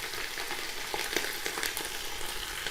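Garlic, ginger and green chilies fry with light-browned onions in a hot pan, a steady close sizzle with occasional stirring scrapes throughout.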